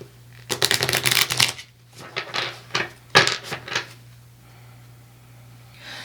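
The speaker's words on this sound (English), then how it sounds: "So when working with a new deck, I'll do kind of like that typical like card shuffle" An oracle card deck being shuffled by hand in several bursts of rapid, crisp riffling flutters, close and loud, separated by short pauses and softer taps of the cards settling.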